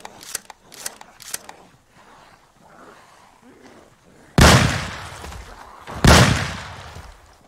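Two loud, sharp gunshots in the zombie survival video game Project Zomboid ring out close together and well apart from each other, the second about a second and a half after the first, each trailing a brief decay over a faint ambient background.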